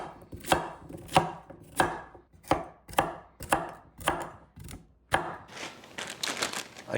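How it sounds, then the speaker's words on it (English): A knife chops carrots into roughly one-inch pieces on a board, about ten crisp, evenly spaced thuds at close range, followed by a softer scraping rustle at the end, with no talking. "cutting the carrots into about 1-inch pieces."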